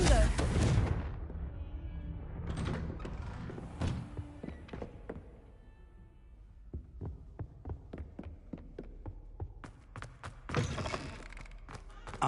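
In Hogwarts Legacy, a Confringo blasting curse explodes with a loud opening boom, followed by scattered thuds and sharp clicky impacts and a later burst, all fairly close and separated by quiet gaps.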